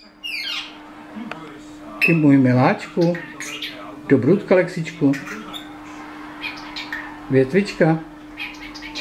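A pet Alexandrine parakeet named Lexíček gives squawky, chattering calls at close range, bursts of harsh sound mixed with a person's close, affectionate talking over a steady background hum.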